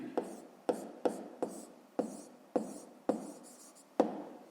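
Handwriting with a pen on paper during a fifth-grade math exercise: a series of short, sharp scratchy strokes at an uneven rhythm, close and quiet, with no talk.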